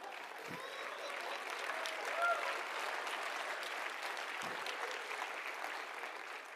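An audience at a tech conference talk applauds. The clapping is a soft, diffuse wash from a large room, steady and fairly distant for several seconds, with a couple of faint low thumps.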